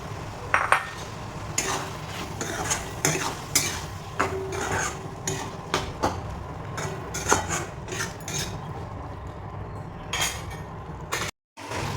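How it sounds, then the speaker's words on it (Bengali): A spatula scrapes and clinks against a pan as fried prawns are stirred into onions in oil, making steady, faint irregular strokes with a low background hum and no talking. "এরপরে এর মধ্যে দিয়ে দেবো চিংড়ি"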